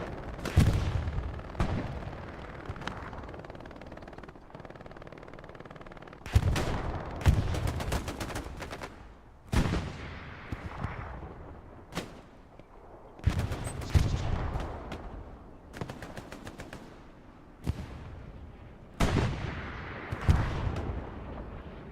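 Machine gun fire in Hell Let Loose during a competitive match, heavy sustained bursts rattling in repeated volleys with short pauses between them, loud and close.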